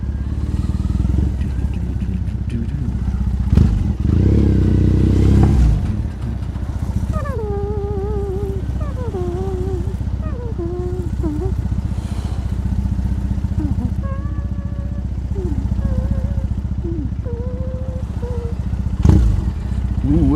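A motorcycle ridden through Tokyo traffic into Shibuya, its engine a steady loud rumble with brief revs, and someone talking over it throughout at close range.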